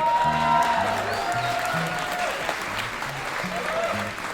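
Crowd at a comedy festival in Yakima, Washington breaks into loud, sustained applause, many hands clapping close by with a few cheers, while a melodic music bed plays underneath.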